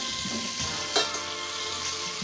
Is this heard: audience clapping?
no